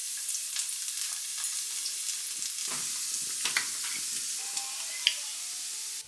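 Garlic frying in sesame oil crackles and sizzles steadily in a pan, with a few sharper pops and spits standing out above the constant hiss; no one speaks.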